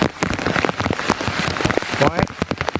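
Heavy rain pours down in a dense, steady wash with close splashes and patters, with a bit of faint background voice at times.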